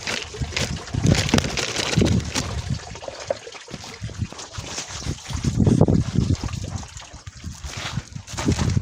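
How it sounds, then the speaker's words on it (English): Seed poured from a pack into water for soaking, producing a continuous rustling, splashing pour with uneven surges, moderately loud and close, with no talk. "with a pack of this nature, we just pour the content inside."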